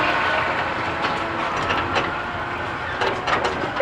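A tour tram rolls along rails at Daytona International Speedway, giving a steady rumbling ride with occasional clicks and clacks of the wheels close by.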